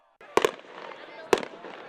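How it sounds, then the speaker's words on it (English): Fireworks at a school sports event, three sharp close bangs, two in quick succession then a third a second later, over a hum of crowd noise. "until ended up for the first night with the fireworks."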